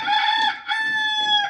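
A rooster crows close and loud, one long harmonic call with a brief break midway, clear and free of talk.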